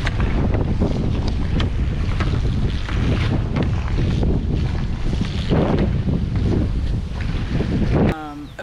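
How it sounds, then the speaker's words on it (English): Strong wind roars across the microphone while foil boarding on choppy water, a loud, continuous buffeting with splashing waves underneath that cuts off abruptly near the end. "super windy and choppy"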